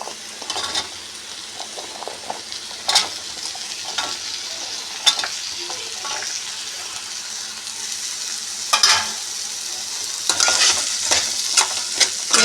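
Chopped jackfruit seed pieces are tipped into a pan of cooked vegetables and stirred, the utensil scraping and clacking in irregular bursts over a steady soft sizzle.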